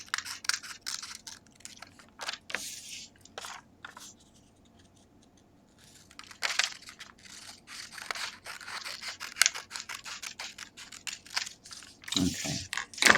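Scissors cut brown paper into a strip with a series of crisp close snips and crunchy paper rustles in uneven bursts, a quieter pause partway through, and no talk.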